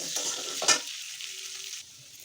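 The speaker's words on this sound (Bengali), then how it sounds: "দিয়ে আলুগুলো ভালো করে ভেজে নেব" Potato pieces seasoned with salt and turmeric powder fry in oil, a close hiss with stirring scrapes and one brief loud clatter, settling into a quieter sizzle toward the end.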